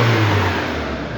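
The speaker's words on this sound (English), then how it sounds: "Let's blip the accelerator." A 2015 Renault Megane 2.0T Renaultsport engine, heard close and loud as the accelerator is blipped, surging to a strong rev and then easing back.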